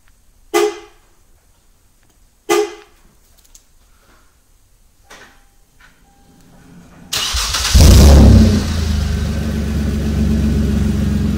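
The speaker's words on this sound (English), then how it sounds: "I'm going to trigger remote starting by locking the doors three times." Three short lock chirps from a 2007-2009 Kia Sorento spaced a couple of seconds apart, a few faint clicks, then the engine remote-starts, cranking and settling into a steady idle.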